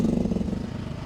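Small gas engine of a Rippa R10 mini excavator running, a close, rapid chugging pulse steady through the short stretch.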